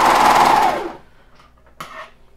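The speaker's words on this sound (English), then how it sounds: "I'm going to keep going a little bit over top of what I've already serged so that it overlaps" A serger overlocker stitches along a fabric edge, a loud, close buzzing whir that runs steadily for about a second before stopping, followed by faint handling clicks and a brief rustle.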